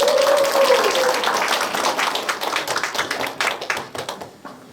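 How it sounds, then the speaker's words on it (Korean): Audience applause at a humanities lecture at a cultural centre in Daejeon, Korea: dense clapping from a seated crowd that thins into scattered claps and fades over several seconds, with a brief voice near the start. "박수 한번 부탁드립니다."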